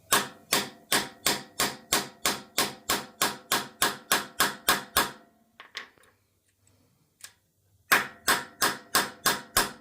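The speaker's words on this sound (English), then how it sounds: "See, I'm not hitting it very hard. Little short hammer." A short hammer taps a valve guide into a 1950 Farmall Cub engine head in a steady, even series of sharp metallic strikes, pausing briefly with faint handling sounds before the tapping resumes.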